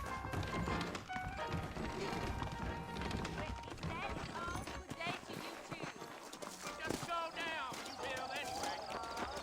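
Horse hooves clip-clop steadily under continuous music in the video game Red Dead Redemption on PS4, with a whinny or two and talking in the background.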